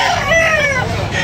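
A rooster crows once at a rooster sale, a loud, close, rising and falling call with a ringing tone, heard with no talk over it.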